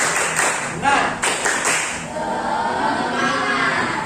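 Schoolchildren in a classroom do a rhythmic spirit clap, several sharp, loud clap accents in the first two seconds followed by looser scattered clapping and a murmur of young voices.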